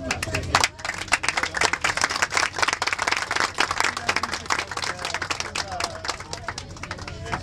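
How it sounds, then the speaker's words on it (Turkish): Sustained applause from a crowd on a Bosphorus boat tour in Istanbul, dense, close clapping that carries on steadily throughout and eases slightly toward the end. "Kendisini bir alkışlayalım."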